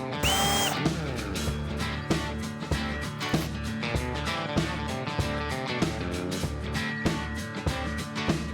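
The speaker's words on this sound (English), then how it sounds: "when I was pre-drilling 2 of these, they split" A power drill pre-drills holes in wooden drawer bins, running as a steady loud whine with regular pulsing surges throughout and no voices.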